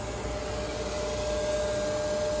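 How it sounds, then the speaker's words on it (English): A large oil-hydrostatic spindle turns on a 4-inch blockhead with an encoder, giving off a steady, loud whirring drone with a faint tonal hum and no change in pitch. "Oil hydrostatic spindle is being rotated on top of a 4-inch blockhead with an encoder."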